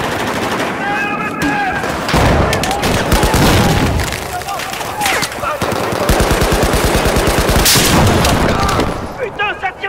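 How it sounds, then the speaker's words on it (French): Dense video-game gunfire from a war shooter on a Dragon's Teeth map pack: rapid machine-gun bursts and scattered rifle shots crackle continuously from all sides, loud and close, with a voice talking over the battle. "ça tire de partout"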